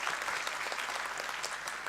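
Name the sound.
audience applause for panel speakers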